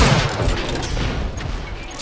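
Weapon fire in an Unreal Tournament duel match, a dense burst of close, loud shots and impacts with a booming low end, thinning slightly toward the end.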